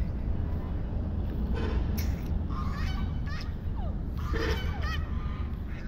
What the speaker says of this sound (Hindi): वो बतखें गुस्से में कहती हैं हमारे पास नहीं आना